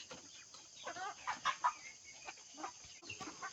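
Backyard chickens raised for roasting cluck in short, faint bursts at a distance over quiet outdoor background.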